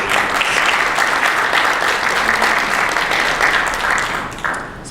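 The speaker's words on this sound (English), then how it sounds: "let's give a round of applause to them" An audience applauds the Philippines Green Building Council at a green building event, continuous loud clapping that carries evenly and then eases slightly near the end.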